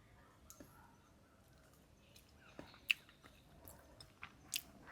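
Soft close chewing and wet squishing of sour mango cooked in snakehead fish curry, with small crunches and clicks scattered at an irregular pace over a quiet room, no talking.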